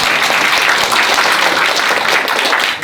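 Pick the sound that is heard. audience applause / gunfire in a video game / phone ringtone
audience applause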